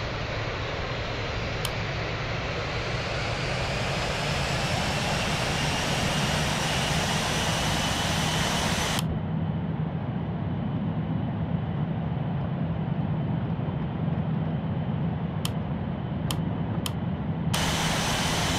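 Airbus A330-300 jet engines roaring steadily through a takeoff roll in a flight simulator game, a loud, continuous broadband rush that stays constant from start to finish with no talk over it.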